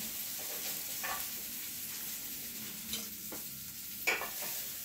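Shrimp grilling over a big, high flame, with a steady close sizzle and crackle running throughout and a few sharper pops and clatters standing out, no voices.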